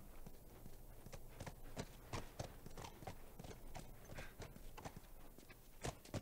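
Horse hooves clip-clop at a steady walking pace on hard ground in The Last of Us video game, a clear rhythmic series of close, distinct hoofbeats with no talk over them.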